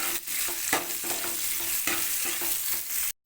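Onion sizzles loudly in hot oil in a pan while a spatula stirs in crushed garlic, tomato and slit green chilli with a rhythmic run of scraping strokes, followed by a brief silence at the end.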